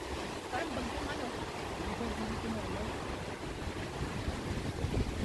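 Strong wind rushes through an open outdoor area by the Museum of Islamic Art in Doha, Qatar. The gusts batter the microphone with a constant loud rumble, and faint voices sit underneath.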